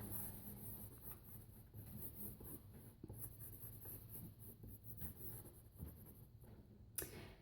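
Pencil lead scratching steadily across paper while a cartoon figure is sketched, a close, continuous soft scraping with short strokes and small pauses, and a sharper tap near the end.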